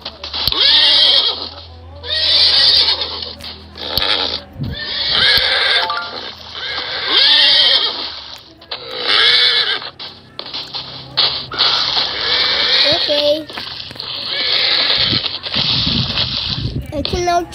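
A horse at a zoo neighs and whinnies repeatedly in loud, drawn-out bursts, with hoof clops and shuffling between calls.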